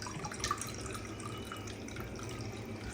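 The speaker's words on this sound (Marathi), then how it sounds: "यामध्ये मी पाणी ॲड केलेलं आहे आणि आता आपण गाळून घेऊ" Ground cumin water for pani puri being strained, a soft steady trickle and drip of liquid, faint and close with no talking.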